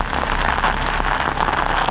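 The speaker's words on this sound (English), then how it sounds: "You hear rain, man?" Heavy rain from Hurricane Melissa in Jamaica pours steadily near a small shed, a dense, continuous hiss of water hitting surfaces at close range with no pauses and no voices.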